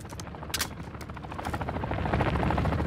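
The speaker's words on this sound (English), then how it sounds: "Chopper's still about." Helicopter rotor thumping nearby in a first-person shooter game with mine traps, a steady whirring drone that swells slightly louder toward the end, mixed with sharp clicks and bursts.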